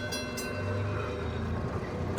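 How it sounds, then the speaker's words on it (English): A train in the hand-drawn puzzle game Gorogoa rumbles past with a steady low mechanical drone and rolling clatter, closing on a brief louder knock. "Careful of the train, kid."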